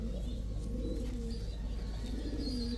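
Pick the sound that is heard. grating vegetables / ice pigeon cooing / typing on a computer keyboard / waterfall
ice pigeon cooing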